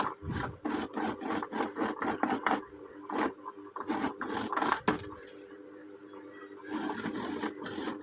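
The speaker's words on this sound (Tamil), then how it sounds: "நம்ம கிரைண்டரில் தேங்காயை திருவி ப்ராக்டிஸ் பண்ணியாச்சு" Coconut being grated on a wet grinder's grater attachment, a close, steady scraping rhythm of rapid repeated strokes over a low motor hum, with a brief pause before the grinding resumes.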